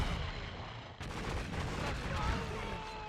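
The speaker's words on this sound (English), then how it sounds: "he can dual wield an AK and a Spaz 12 shotgun somehow" Rapid gunfire from an AK rifle and a Spaz 12 shotgun dual-wielded in True Crime: Streets of LA, a dense, loud barrage of shots that pauses briefly, then resumes and continues steadily with sharp cracks throughout.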